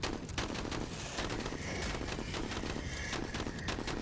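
Gunfire crackles in the turn-based tactical RPG MENACE, with rapid overlapping shots forming a loud, continuous volley that keeps going without pause.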